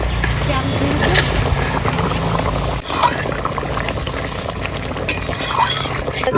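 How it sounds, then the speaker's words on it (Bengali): Pieces of a 2.5 kg rui fish go into a simmering, bubbling masala curry, which gives a loud, continuous sizzle and boil with stirring and a brief clatter midway. "মাছগুলো এবার দিয়ে দিই"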